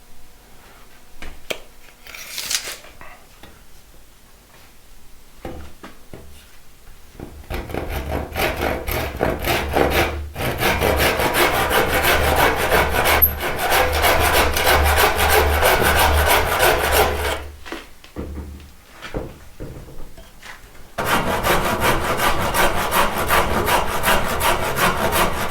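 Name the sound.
blunt chisel working wood batten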